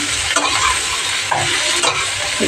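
Taro stolons stir-fry in a pan beside shrimp, a close, steady sizzle broken by a few scraping stirs of the spatula over about two seconds, with no voices.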